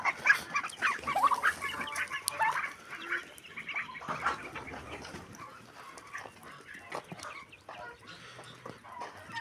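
Backyard chickens clucking and squawking in a garden, several birds calling in bursts close by, busiest at the start and then tapering to softer intermittent clucks over quiet farmyard background.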